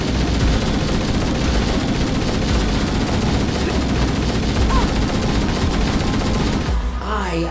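Continuous gunfire and a helicopter's drone fill a LEGO Avengers video game scene, a dense, loud, unbroken barrage of shots that ends abruptly just before the close.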